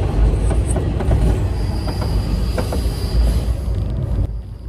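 Passenger train on an Iranian railway: loud, close rumble of the rolling train with rhythmic wheel clicks and a thin high squeal of wheels, steady throughout and ending abruptly.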